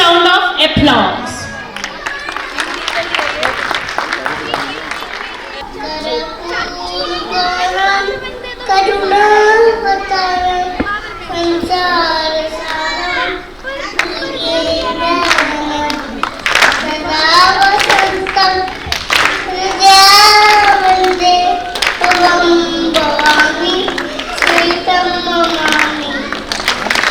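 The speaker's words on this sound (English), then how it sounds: "Let's welcome our young dreamers with a big round of applause" An audience at a school annual function claps for the young performers, a sustained patter of hands heard under children's voices and an amplified presenter talking throughout.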